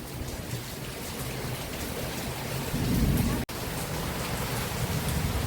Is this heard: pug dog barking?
no